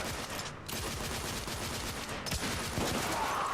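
Revolver gunshots from the duelist revolver in The Order: 1886, several sharp, loud cracks in quick succession amid continuous game combat noise, with brief gaps between bursts.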